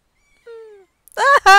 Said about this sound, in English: And she has a companion cat named Zeke